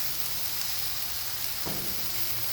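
Oil sizzles on a hot Blackstone griddle while chicken fried rice cooks, a steady hissing wash with one brief low knock partway through.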